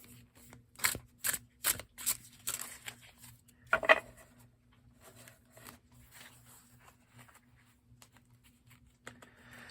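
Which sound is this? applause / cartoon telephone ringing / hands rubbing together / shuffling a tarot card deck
shuffling a tarot card deck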